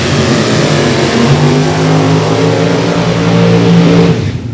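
A Pro Charge dragster at a drag race strip, its engine roaring loud and close in a sustained, steady drone for several seconds before tapering off at the end.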